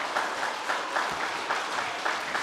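Applause for departing Year 8 students at a school's senior prizegiving, a steady patter of many hands clapping throughout, moderately loud and fairly even in texture.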